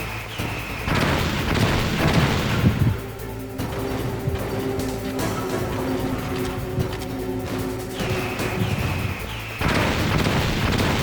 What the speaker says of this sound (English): how am I supposed to defend against missiles?